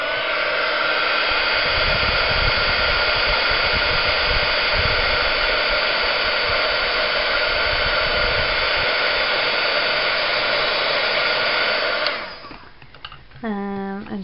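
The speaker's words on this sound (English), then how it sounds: "So I'm going to take my heat tool again." A craft heat tool blows a steady, loud, hissing stream of hot air for about twelve seconds while melting clear embossing powder. It then switches off into a brief, quieter mechanical whirr.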